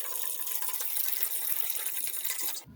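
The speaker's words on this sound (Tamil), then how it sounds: "ஃபஸ்ட்டு 1 லிட்டர் தண்ணியை வந்து ஊற்றுறோம்" About a litre of water pours steadily into a hot pot on a rocket stove, a continuous close splashing gush that cuts off abruptly near the end.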